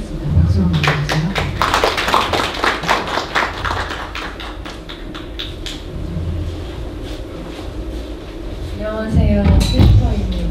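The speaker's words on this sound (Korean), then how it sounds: "박수 한번 주세요." An audience at an outdoor artist market in a park claps for a team coming up to present, a burst of close hand claps that thins out, with talk mixed in and a voice near the end.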